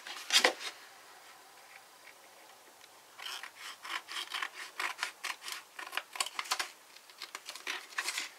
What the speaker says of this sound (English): And then we're just going to cut the remainder of that off.